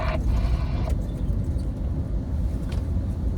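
From inside a heavy truck cab, a car passes on a straight road, a brief swell of tire and engine noise over the truck's steady low engine rumble, with no talking.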